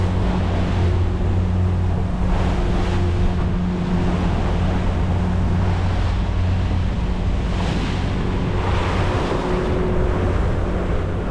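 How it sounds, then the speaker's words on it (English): Wind chop slapping against a boat on open water while fishing for grouper, with continuous wave wash, gusty wind buffeting the microphone and a low motor hum, no talking. "Got a little wind chop here."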